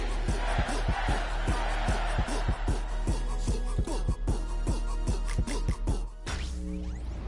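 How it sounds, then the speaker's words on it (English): Stadium crowd roar in an EA Sports football video game, a steady loud wash of voices under a thumping rhythmic music beat that cuts out near the end. "the crowd is ready"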